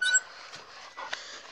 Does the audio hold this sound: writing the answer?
no